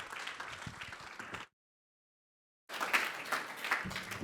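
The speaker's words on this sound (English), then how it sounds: "Please give a round of applause for our panelists" An audience at a cancer immunotherapy expert panel applauds the panelists with steady, moderately distant clapping, broken by a brief silent cut before the clapping resumes.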